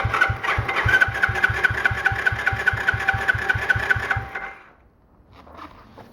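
A small quad ATV engine cranks over with a fast, regular chugging pulse for about four seconds, then cuts out into near silence with faint handling noise afterward.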